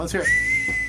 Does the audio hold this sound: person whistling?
yes